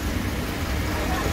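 Steady, dense road traffic rumble from a jam of cars, buses and trucks, heard from inside the stalled flow, a continuous even wash of engine and tyre noise with no distinct passes.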